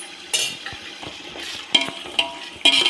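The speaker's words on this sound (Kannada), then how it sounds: "ಇದರಲ್ಲಿ ಮಸ್ಕೊಂಡು ಚೆನ್ನಾಗಿ ಫ್ರೈ ಆಗಲಿ" Chili powder and coriander powder fry in a pan for mushroom fried rice, giving a soft continuous sizzle broken by several sharp scrapes and clinks of a stirring spoon against the pan.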